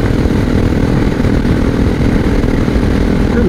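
A motorcycle engine heard while riding on a road in Germany, a loud continuous buzzing drone with wind noise, steady throughout with no change in pitch and no speech.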